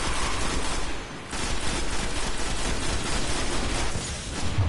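Rapid bursts of automatic weapon fire in the Destiny video game, dense and continuous with a brief pause near the start, loud and close with no talking.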